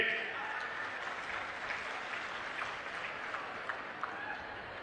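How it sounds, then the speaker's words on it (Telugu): A crowd of farmers claps steadily at an outdoor political rally for Chief Minister Chandrababu Naidu, the dense, even applause sustained throughout with a few sharper claps standing out. "ఏమయ్యా రైతులు గట్టిగా చప్పట్లు కూడా చెప్పండి"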